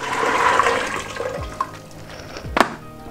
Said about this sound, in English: in goes the boiling water